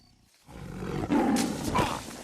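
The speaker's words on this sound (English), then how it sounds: "this fucking huge-ass tiger roar should totally wake him up" A huge tiger in the animated film Ice Age lets out a deep, loud, drawn-out roar that swells in after a brief quiet moment and rumbles on to the end.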